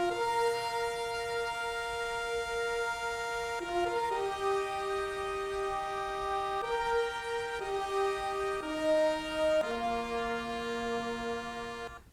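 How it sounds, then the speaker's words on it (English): Trumpet line from Aaron Copland's Fanfare for the Common Man, a bright brassy melody of sustained, stepping notes sounding loud and close throughout, with no talking. "I've taken this trumpet line right here"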